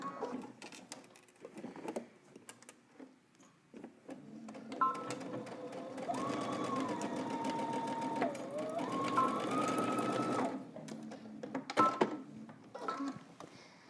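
A sewing machine stitches along the facing seam of a coat, running steadily for several seconds in a close, continuous whir after some brief handling noises.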